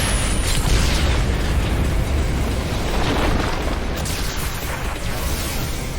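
Cannon fire and explosions in an action video game battle, a dense, sustained roar of booming blasts filling the whole stretch with no clear gaps.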